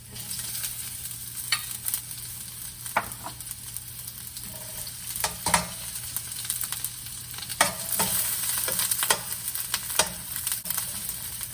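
Garlic and onion fry in a pan with a steady sizzle, broken by occasional sharp clicks and scrapes of stirring, close and moderately loud with no talk over it.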